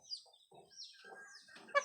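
A hen clucks softly nearby in a few short, uneven bursts, ending with a slightly louder squawk.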